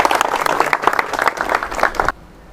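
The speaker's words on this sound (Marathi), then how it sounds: "जोरदार टाळ्या" Loud audience applause at an MPSC quiz session in Yavatmal, dense clapping that carries on for about two seconds and then cuts off abruptly into near silence before a brief burst returns.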